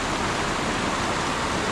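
Snowmelt waterfall and stream coming down from high on an Italian mountain in Val di Rabbi, a steady, even rush of water that stays constant throughout.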